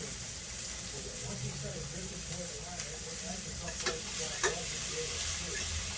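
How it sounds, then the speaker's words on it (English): Onions frying in a pan alongside corn and bacon, a steady low sizzle with occasional stirring clicks, close and moderately quiet throughout. "Couple onions. And we're going to get them nice and toasty."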